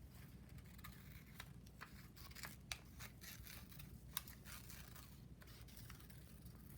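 Scissors snip through paper while a picture of soap is cut out for a preschool craft, giving a steady run of soft, close crisp snips and scrapes with no talking.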